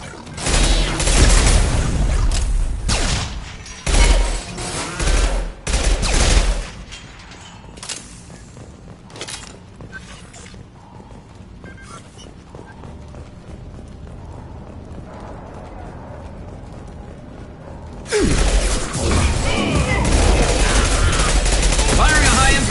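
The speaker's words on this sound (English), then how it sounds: "Firing a high-impact shot!" Gunfire in the video game Mass Effect 2: loud bursts of rapid shots in the opening seconds, then a quieter stretch of scattered reports and mechanical clatter, then heavy sustained firing again near the end.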